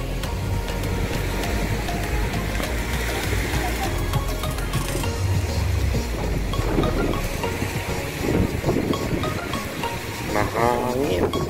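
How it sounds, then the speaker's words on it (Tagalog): Strong, steady wind roaring across the mic on a Black Sea beach in Constanta, with a loud rumbling engine and some chatter mixed in. "Mahangin."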